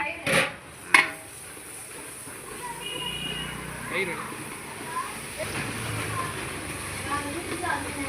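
A large pot of chicken biryani is stirred in a Madurai home kitchen, with two sharp metal clanks at the start and then softer scraping and clinking under steady talking.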